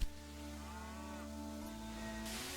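A low, drawn-out cow moo from the video game Railway Empire 2 sounds alone over a steady background hum, with a faint bright hiss near the end.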